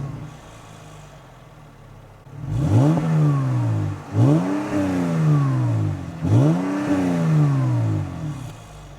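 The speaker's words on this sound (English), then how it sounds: "let's start up the Cabriolet and see how it sounds." A 2012 Mercedes E 350 Cabriolet engine fires up after a quiet moment, then revs three times in rising and falling sweeps before settling back, loud and close with no talking.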